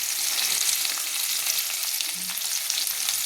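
Diced radish and potato fry in oil with spinach for a vegetarian palong shak ghonto, giving a steady, dense sizzle that holds evenly throughout with no voices.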